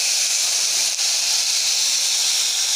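Tomato paste hitting a hot frying pan and sizzling, a close, loud, even hiss that holds steady throughout.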